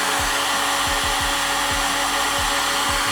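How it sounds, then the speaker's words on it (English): Heat gun blowing a steady broadband hiss of hot air onto waxed denim fabric, with a low hum and repeated faint thumps underneath, close and continuous. "now we can take the heat gun or like a blow dryer and kind of get some heat"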